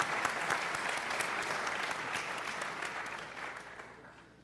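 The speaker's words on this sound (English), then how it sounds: "Big round of applause for Mr. Jeff King." Audience applause for a guest named Jeff King, a dense, sustained wash of many hands clapping that fades gradually toward the end.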